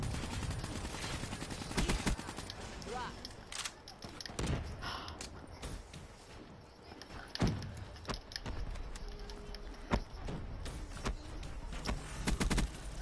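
Gunfire in Black Ops 3, sharp scattered bursts and single shots at varying distances over a busy game mix, with no one talking.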